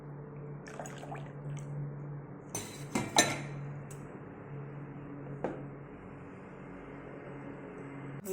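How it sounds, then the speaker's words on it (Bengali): Dishes being washed with water, with scattered clinks of metal pots and utensils over a low background hum, loudest in a brief cluster of knocks. "বাসন ধুয়ে নিলাম"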